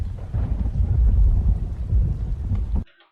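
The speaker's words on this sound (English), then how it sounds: "so we only get rain outside where we don't have anything blocking." Simulated rain in an Unreal Engine 5 scene makes a steady, dense rushing hiss with a low rumble, then cuts off abruptly just before the end.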